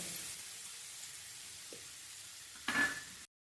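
Spices sizzle quietly in hot oil in a home kitchen, a soft continuous crackle with a brief louder hiss and scrape near the end before it stops.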